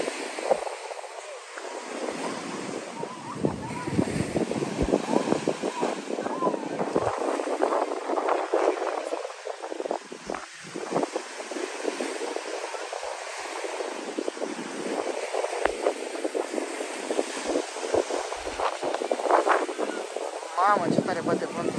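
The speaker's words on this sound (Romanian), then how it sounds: "ce tare bate vântul" Strong hurricane-force wind blows at a beach in Punta Cana, roaring and buffeting the microphone continuously, with surf noise underneath and people shouting over it.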